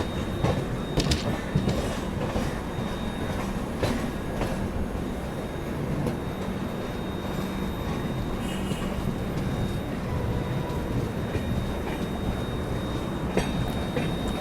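Mandovi Express running just after leaving Madgaon, a steady broadband rumble of wheels on rail with scattered clacks and squeals, continuous and close throughout with no talk.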